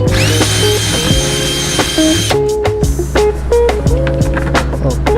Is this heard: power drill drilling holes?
yes